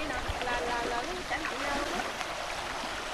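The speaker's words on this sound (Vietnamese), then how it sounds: "Nó chảy ào ào luôn." Heavy rain-swollen creek rushing hard like a river in a rural garden, a steady broadband roar of churning water up close with a person talking over it.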